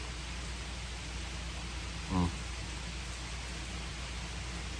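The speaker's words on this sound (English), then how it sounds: "you can hear the rain coming down now" Steady rain falls throughout, an even hiss with one brief low thump midway.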